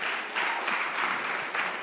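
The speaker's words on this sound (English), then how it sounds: "A round of applause, please." An audience at a community dialogue event claps steadily, a dense, even applause that fills the room throughout.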